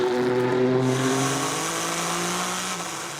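Race cars at the 6 Hours of Silverstone endurance race pass with a loud, sustained engine roar whose pitch slowly falls as they move away.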